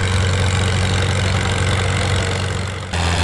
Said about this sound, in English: And here we have Alan Lendon Sr. in the International, having a good, strong, steady pull here this weekend at Metcalfe.